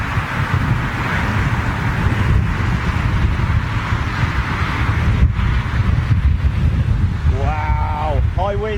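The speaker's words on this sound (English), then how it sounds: "Wow, high winds. Wind just picked up there." Strong gusting wind at London Heathrow Airport buffets the microphone with a loud, continuous roar, and a brief warbling tone rises near the end.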